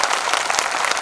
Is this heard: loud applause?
yes